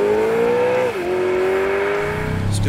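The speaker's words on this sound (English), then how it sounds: "the gloriously mechanical sound of what's probably the best V8 engine" 6.4-liter Hemi SRT V8 making 475 horsepower revving hard, a loud close mechanical howl that climbs, dips briefly with a shift, then climbs again alone.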